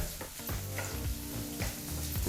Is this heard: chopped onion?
yes